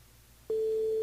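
A steady telephone line tone during a French radio call-in show starts abruptly partway through and holds at a constant loud pitch over a faint hum.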